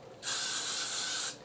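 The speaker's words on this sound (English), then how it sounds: "as much freeze spray as you need." Freeze hair spray comes out of a can in one continuous hiss, about a second long, close and loud, with a sharp start and stop and no talking over it.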